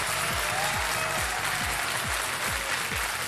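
A studio audience on a TV quiz show claps steadily, a dense, continuous wash of applause with even rhythmic beats throughout, filling the room.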